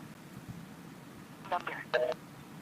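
A phone call goes out through the tap4call internet calling app. Two short bursts of electronic ringing tones sound in quick succession over a low background with faint voices.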